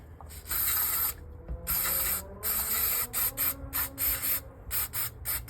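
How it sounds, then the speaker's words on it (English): Brake cleaner hisses from an aerosol can onto an Edelbrock carburettor in a series of loud bursts, first long sprays and then shorter rapid spurts, with no talking. "I like to use a bit of brake cleaner."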